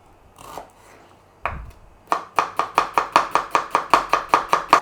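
A knife finely dicing food on a cutting board, with a few scattered taps first, then a fast, even run of about fifteen close, crisp chops.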